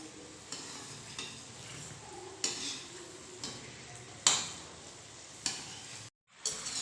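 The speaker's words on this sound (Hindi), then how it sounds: "पलटने के बाद मैंने इसे 3 से 4 मिनट तक और फ्राई कर लिया, बिल्कुल लो फ्लेम के ऊपर।" Gujiya pastries fry in oil over a very low flame, giving a soft steady sizzle with a few sharper scrapes or clicks spaced through it, close and quiet with no talking.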